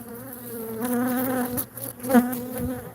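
Bees buzzing around a hive of remnant Africanized (killer) bees, a steady close drone with rising and falling pitch swells throughout.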